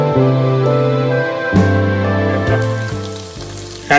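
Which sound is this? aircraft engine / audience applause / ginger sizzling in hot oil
ginger sizzling in hot oil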